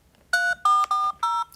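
Telephone keypad tones dial out for a cold call, four loud two-tone beeps in an even rhythm, each about a fifth of a second long and separated by short gaps.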